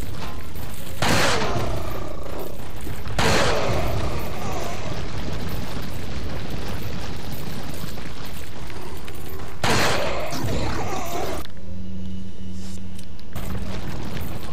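Gunfire from a weapon in the video game Resident Evil 4 booms out in several loud, heavy blasts spaced a few seconds apart, each with a rumbling tail, then the action goes quieter near the end.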